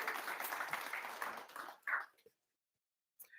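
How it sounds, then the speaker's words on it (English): A graduation celebration audience claps in a steady, fairly faint wash of applause that fades out into silence, followed by a brief sound at the end. "Y'all can clap. Y'all can clap."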